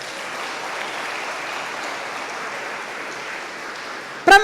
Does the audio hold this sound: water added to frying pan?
no